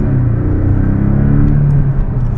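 A car engine revs in a steady, loud, close rumble that holds a deep throaty drone for a couple of seconds.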